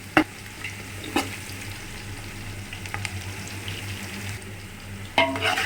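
Onions stir-fry in a pan for homemade chicken biryani, a soft continuous sizzle broken by a few scraping clinks of a spoon against the pan.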